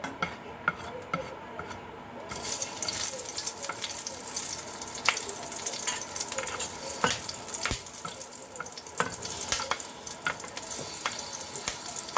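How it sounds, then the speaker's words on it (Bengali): Black cumin and green chilli fry in hot oil, a steady crackling sizzle that jumps louder after a quieter start, dotted with sharp pops and spatters close by. "তেল গরম হলে দিয়ে দিলাম কালো জিরে আর কাঁচা লঙ্কা"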